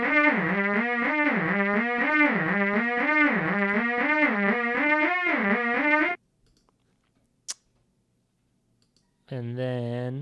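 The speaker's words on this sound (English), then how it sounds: "This one also has the tape delay on it." A Jen SX 1000 synthesizer plays a buzzy, pulsing melodic line through tape delay, repeating notes in a wobbling rhythm, then falls silent apart from a single click before a short new phrase starts.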